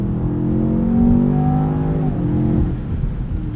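A 2026 Land Rover Defender Octa with a 626 hp twin-turbo V8 accelerating hard, a loud close engine roar rising in pitch, then a brief dip at a gear change before it pulls again, with no talk.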